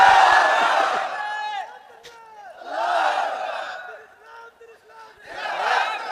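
Large crowd at an outdoor Islamic sermon gathering on a Bangladeshi school field, roaring takbir in unison in three loud bursts separated by brief quieter gaps, echoing across the open ground.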